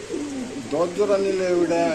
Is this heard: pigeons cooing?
yes